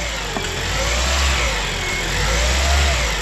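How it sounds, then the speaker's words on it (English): A Toyota Corolla Hybrid engine runs after a spark plug change at 100,000-mile service, a close, steady idle with a low hum that gently swells and rises in pitch as it revs. "I'm going to fire it up and make sure it's running on all 4 cylinders"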